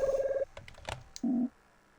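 A phone rings in a video game: a short electronic ringing tone pulses, then a few clicks and a second lower tone sound, close and clean against near silence.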